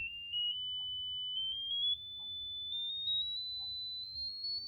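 Electronic sine test tone from a DIY audio spectrum display setup, a steady pure beep gliding slowly upward in pitch in small steps, alone over a faint low hum and a few soft clicks.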